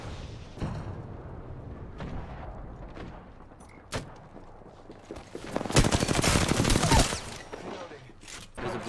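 Gunfire in the video game Apex Legends, bursts of rapid shots that swell into a dense, loud volley near the end, with scattered single cracks before.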